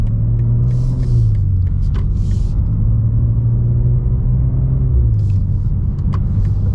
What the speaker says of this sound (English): That car sounds really good.